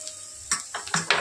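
A spoon scrapes and knocks a few times against a pan while coriander, cumin and garam masala powders fry with a cabbage filling; the strokes are quiet, brief and uneven over a faint sizzle.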